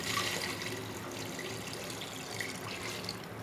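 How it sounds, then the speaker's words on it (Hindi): Water pours steadily into a cooking pot for beef pulao, a continuous close splashing rush of three to four glasses' worth, with no voices. "अब मैं इसमें 3 से 4 गिलास पानी शामिल कर रही हूँ।"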